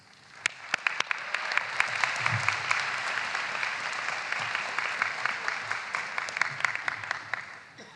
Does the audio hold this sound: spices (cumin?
no